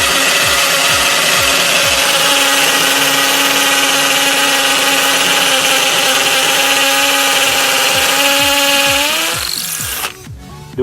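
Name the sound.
24V cordless drill in hammer mode drilling concrete wall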